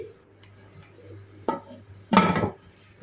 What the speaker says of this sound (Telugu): మూత మూసి